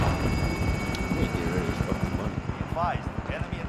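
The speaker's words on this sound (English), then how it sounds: "attack chopper incoming." Attack helicopter approaching in Call of Duty Warzone, a loud rotor thump pulsing in fast regular chops with a whining turbine, while players talk over it.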